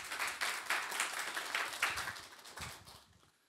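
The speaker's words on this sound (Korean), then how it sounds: "큰 박수로 맞이하여 주시면 감사하겠습니다." Applause from a symposium audience welcoming the director to the podium, a moderate patter of clapping that thins out and fades away over a few seconds.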